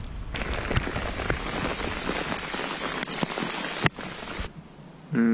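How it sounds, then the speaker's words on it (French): Steady rain from an arriving thunderstorm pattering on a surface by the Loire, a dense hiss of drops with a few sharper splashes, fairly close and continuous throughout. "L'orage et la pluie arrivent."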